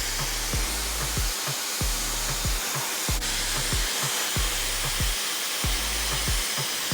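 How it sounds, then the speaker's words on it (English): A hair dryer blows steadily and loudly at close range while hair is styled with a brush, its airflow broken by regular rhythmic thumps and pulses as the brush moves through the hair, with no talking. "So I'm gonna bend the hair and blow dry it"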